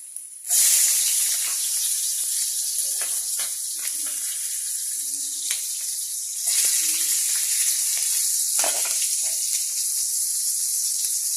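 Garlic and onion hit a hot pan for sautéing, setting off a sudden broad hiss that holds steady, with a few soft clinks and a second surge of sizzling partway through.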